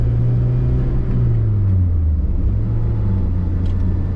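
A Suzuki Jimny with a swapped-in manual transmission drives along, its engine giving a loud, close, low rumble that revs and then eases down in pitch, heard from inside.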